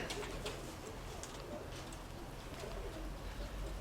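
Soft cooing of a dove over steady outdoor background noise, faint and somewhat distant, with no talking.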